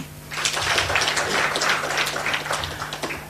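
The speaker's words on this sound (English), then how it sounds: "A clap for him." Steady applause from an audience at a political gathering in Kenya, many hands clapping densely and evenly for about three seconds, fairly loud with a low steady hum underneath.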